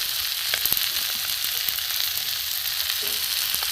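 Turmeric, cumin powder and chili powder sizzle steadily in hot oil for a katla fish ball recipe, a dense continuous crackle with a few sharper pops near the start and no voices.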